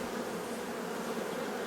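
Dense, steady buzzing of many honeybees close by at a hive, a continuous swarm-like hum with no pauses.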